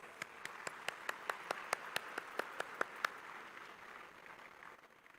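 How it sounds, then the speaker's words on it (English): A sparse round of clapping from an audience at a national-level felicitation ceremony, about a dozen distinct, evenly spaced claps that fade out, faint and slightly distant. "Please give her and all the rank holders a big round of applause."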